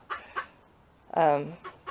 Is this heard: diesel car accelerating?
no